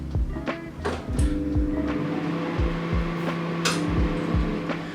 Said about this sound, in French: Donc c'est parti, je mets au micro-ondes.